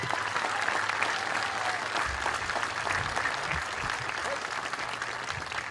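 Steady, dense applause from a crowd for awardees at a military graduation ceremony, continuous and fairly loud throughout, with a few faint voices mixed in.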